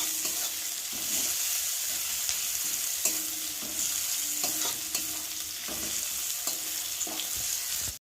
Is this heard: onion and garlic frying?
yes